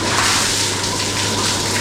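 Bucket of Norwegian ice-field water poured out in one steady, loud gushing splash that runs without a break.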